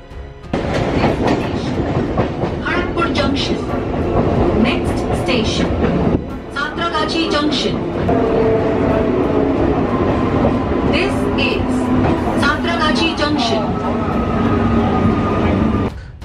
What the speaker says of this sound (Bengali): একটি লোকাল ট্রেন হাওড়ায় ঢুকছে।